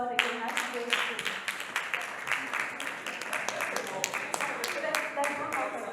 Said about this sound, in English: Can we please applaud again as we go through?